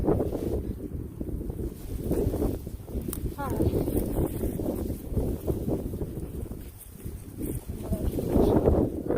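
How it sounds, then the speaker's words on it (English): Gusty wind buffets the microphone in a constant low rumble, with someone speaking briefly underneath. "Starting to get windy"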